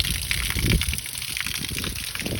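Water from a mountain spring gushes out of a pipe near Tala Beach on Ambulong Island, Occidental Mindoro, a continuous close rushing and splashing with no pauses.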